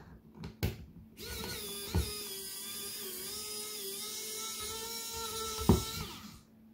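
General Tools 500 cordless power precision screwdriver removing a small screw, a steady high whirring motor with a few clicks and knocks before it starts and a bump near the end as it stops.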